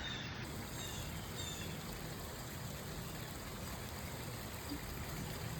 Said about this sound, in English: I don't know if you can actually see the rain, but it is pouring and the creek is rising.